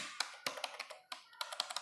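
Key presses on an Amazon Basics computer keyboard, a series of sharp, uneven taps close to the mic with brief pauses between strokes, no talking.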